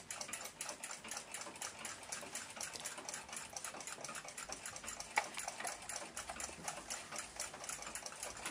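Russian submarine clock movement running on the bench after its balance assembly is fitted, hairspring stud still loose, giving a steady, fast close-up ticking that carries on evenly throughout with no talk.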